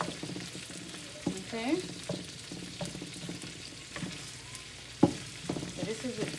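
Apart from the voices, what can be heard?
pork sizzling as it sautés in butter in a pan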